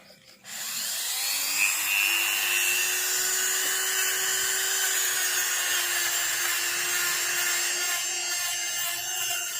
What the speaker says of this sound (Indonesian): Kita lanjut ke proses berikutnya, poles halusnya.